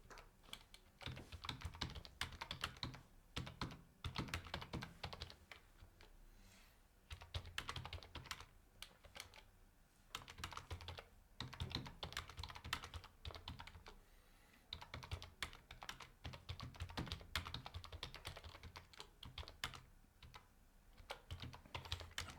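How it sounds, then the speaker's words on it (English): Rapid clattering keystrokes on a German computer keyboard come in bursts separated by brief pauses, close and fairly quiet, with no one speaking. "I have to type a little bit."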